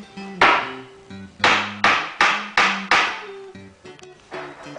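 Sharp, loud wooden-sounding blows of a hammer striking in an irregular series of about eight hits, each with a quick decay, close by and with no talking.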